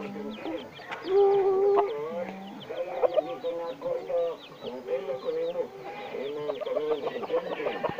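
A flock of farm chickens clucks and squawks busily at feeding time, with overlapping near calls rising and falling and some voices talking among them.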